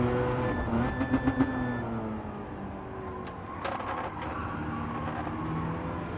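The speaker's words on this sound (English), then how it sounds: "RX-7 does that whole beeping when you redline it." A Mazda RX-7 in Gran Turismo 7 revving to redline, where a steady high warning beep sounds over the engine for about a second before the engine carries on alone.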